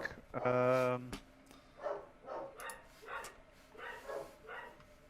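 Real dogs barking at home during an online tabletop role-playing session, one loud drawn-out bark near the start followed by softer voices talking.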